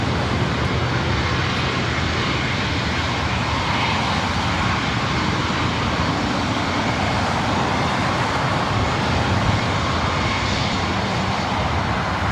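A 20-year-old Airbus A320 airliner's jet engines roar steadily at LAX, a loud, continuous broadband rumble and whine heard close up, without speech.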